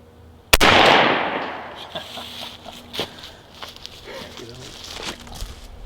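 A single sharp .410 shotgun blast fired at a turkey target from 50 yards rings out loud and close, its echo decaying over the next second, followed by faint outdoor rustling and scattered small knocks.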